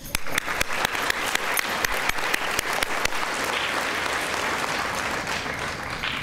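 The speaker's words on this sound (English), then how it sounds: "we want to just applaud you for making it past the local and the regional level to get to the state level" An audience applauds elementary winners at the 2024 NCSEF state awards: a dense, steady wash of clapping with sharper individual claps standing out, sustained for the whole stretch without letting up.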